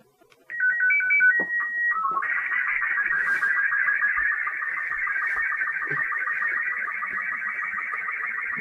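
Slow scan TV picture transmission tones from a speaker: a few brief stepped header beeps, then a continuous warbling, scanning tone that holds steady and fairly faint.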